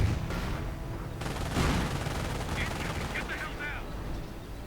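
Artillery firestorm and gunfire in a WWII strategy video game, rapid machine-gun bursts and booming impacts crowding together, with a commentator talking over the battle.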